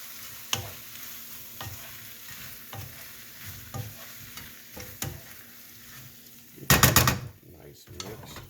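Korean spicy garlic chicken stirred in a wide oval skillet, a utensil scraping and clacking rhythmically against the pan over a steady sizzle, ending in a brief flurry of louder scrapes.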